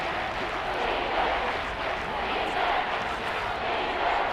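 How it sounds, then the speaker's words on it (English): A stadium crowd cheers and roars in a steady, dense wash during a simulated Cardinals versus Saints game in Madden 24, holding loud and continuous throughout with no clear breaks. "Crowd getting in it a bit already."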